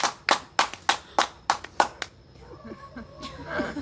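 Audience clapping after a joke at a comedy show: a handful of sharp, evenly spaced claps that fade out after about two seconds into quieter room noise.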